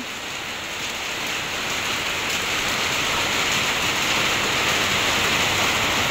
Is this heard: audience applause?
no